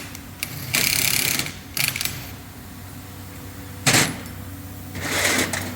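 A pneumatic diecasting machine cycles with hissing air bursts and mechanical clatter over a steady low hum, several loud blasts separated by quieter running, heard up close without speech.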